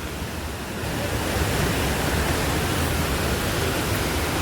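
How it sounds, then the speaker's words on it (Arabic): A powerful waterfall at Ubud, Bali: a continuous, loud, broadband rushing roar of falling water that builds slightly in the first second, then holds steady without voices. "الشلال مهيب عالي قوي جدا"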